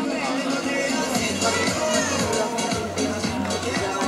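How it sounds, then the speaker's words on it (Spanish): Crowd applause at a popular running race in Carballedo greets a seventh-place finisher, a steady dense clapping wash with crowd noise throughout. "Ese fuertísimo aplauso para séptimo clasificado"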